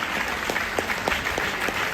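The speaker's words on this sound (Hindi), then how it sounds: "एक बार जोरदार ताली बजाइए" A crowd claps loudly at a gathering led by a speaker, a dense, steady wash of applause with a few sharper individual claps standing out, continuous for about two seconds.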